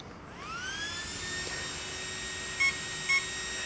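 Startup beeps from a Team Cayote speed controller wired to an Orca Blitzstream motor on a 2-cell battery: two short, clear electronic tones late in the clip, over a steady high whine and hiss, with no talking.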